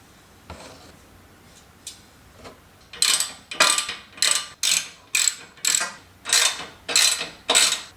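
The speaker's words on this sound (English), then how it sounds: "So I'm using a 14mm socket for these ones and my breaker bar." A ratchet with a 14mm socket works the bumper bracket nuts on a Toyota Tacoma, a few scattered clicks followed by a steady run of about ten loud, sharp ratcheting strokes close by.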